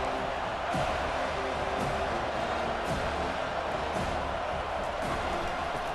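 Stadium crowd noise in an EA Sports college football game, Miami at Florida State, a steady loud roar of the crowd with faint thumps, no speech.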